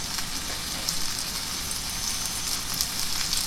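Flour-coated fish frying in a pan over low to medium heat, giving a soft, steady, dense crackling sizzle with no talk.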